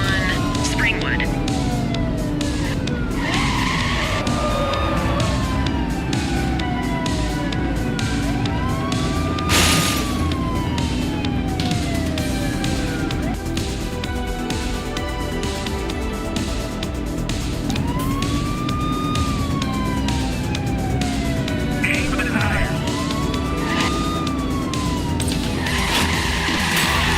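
A police car chase in the video game The Precinct, with wailing sirens sweeping up and down, engine roar and tyre skids running throughout, loud and continuous, while radio-style voices talk over it.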